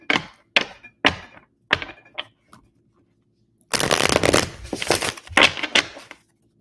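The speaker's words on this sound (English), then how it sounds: "Let me get one more good shuffle." Tarot cards are riffled and tapped in a series of crisp, close snaps, followed by a longer, dense burst of shuffling that ends in a few sharp slaps of the deck.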